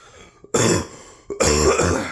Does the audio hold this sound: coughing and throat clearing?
yes